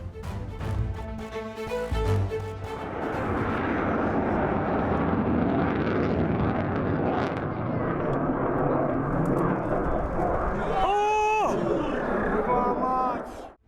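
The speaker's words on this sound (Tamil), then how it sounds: "போலந்தில் வான்படை சாகசத்தின் போது F-16 போர் விமானம் தரையில் விழுந்து நொறுங்கி தீப்பிடித்து எரிந்து விபத்து ஏற்பட்டது." An F-16 fighter jet flying at an air show in Poland gives a loud, sustained roar. The roar fills most of the stretch, with voices and crowd noise mixed underneath.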